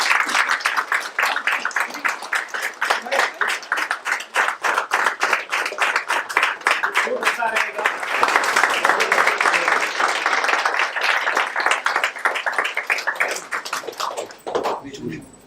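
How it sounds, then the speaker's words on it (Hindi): An audience at a Hindi play performance claps for the camera operator, a smaller group whose distinct, rhythmic claps rise and swell midway before fading, with a voice speaking over parts of it. "उसके लिए भी तालियां"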